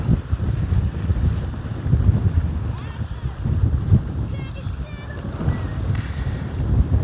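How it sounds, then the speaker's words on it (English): Wind gusting across the Ohio River near Louisville, a continuous rumbling buffeting against the microphone with a faint muffled windscreen, rising and falling in strength, with a voice briefly talking and lapping waves underneath. "it is windy, but I got the dead kitten on"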